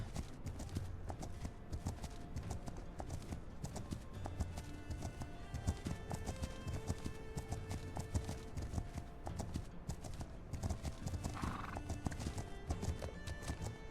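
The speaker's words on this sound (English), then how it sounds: "The priority is wild horses." Continuous hoofbeats of wild horses in the video game Legend of Khiimori, steady clip-clop with occasional neighs and whinnies layered over a busy game soundscape.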